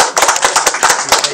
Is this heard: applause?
yes